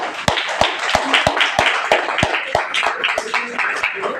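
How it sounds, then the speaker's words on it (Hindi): Roughly a dozen sharp claps land in a fairly even rhythm, likely hands clapping together in unison in a hall, with faint voices murmuring underneath. "ताली है।"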